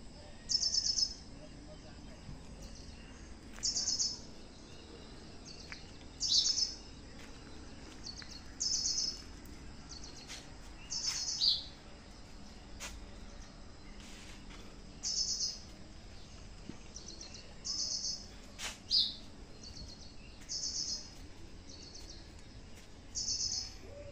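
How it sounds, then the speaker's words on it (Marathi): House sparrows chirp in short repeated bursts while eating rice in a morning setting, each cluster of bright chirps spaced a few seconds apart over a steady faint background. "असं चिमण्या रोज तांदूळ खायला येतात."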